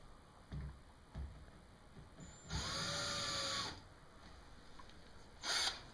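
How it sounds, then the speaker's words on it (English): A power drill bores a hole through the plastic hull of a Tarpon kayak. It gives a steady, close, high whine for about a second, followed later by a brief second burst, with no talking. "we're going to place it on the flat part of the kayak by drilling a hole right through"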